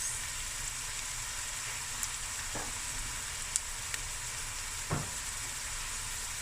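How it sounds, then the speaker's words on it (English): Lamb, about 1.5 kilograms, frying with fresh garlic, ginger and chili in a pan gives a steady close-up sizzle throughout, with a few soft clinks and stirring knocks rising above the bubbling hiss. "Now you just let this fry till it's nice and golden brown"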